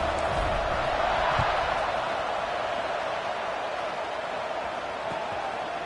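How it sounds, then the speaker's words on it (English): A football stadium crowd during a game, a steady dense roar and murmur of many voices filling the space at an even level throughout. "this crowd is buzzing after that last score"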